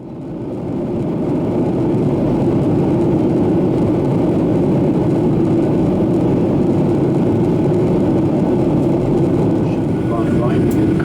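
Inside the cabin of an Aeromexico Boeing 737-800 on approach to land, a loud steady low rumble of engine and airflow holds throughout while a voice talks over it.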